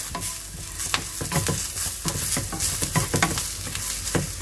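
Red chili, cumin seeds, oregano and salt stirred in a hot frying pan for vegetable fajitas: a steady sizzle with repeated scraping strokes of a utensil against the pan, close and clear.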